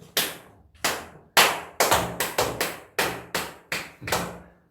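Single hand claps used as a slate during a live broadcast, about eleven sharp, separate claps at uneven intervals, close and crisp, each with a short decaying tail, with no talk.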